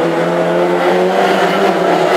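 Classic hot rod race cars at Hednesford circle the oval in a close battle for the lead, engines droning and revving steadily nearby, a continuous loud roar with no pauses or talk.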